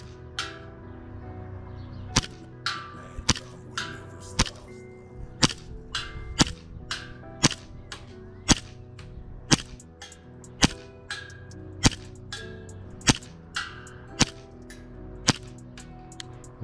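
A Hi Capa 5.1 airsoft pistol fires at a target about 25 metres away, giving a steady run of roughly fifteen sharp, snappy shots about a second apart, close and loud, with faint background noise between them.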